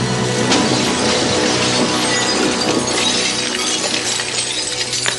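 Fiberglass sculptures of a toppling Saddam Hussein statue fall and smash during a practical film effect. A loud, sustained crash of shattering and breaking pieces with brittle clinks continues for several seconds, and no voices are heard.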